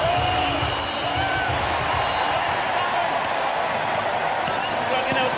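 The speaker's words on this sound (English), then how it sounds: "Crowd entertaining themselves at the moment." Cricket crowd at a Barbados Test match between West Indies and Australia, a steady broad wash of distant chatter, whoops and scattered cheering with no clear lulls throughout.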